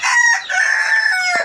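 Laying hens in a four-tier caged poultry farm, with a loud, close rooster-like crow and clucking calls that run almost without a break, ending in a short rustle; no speech.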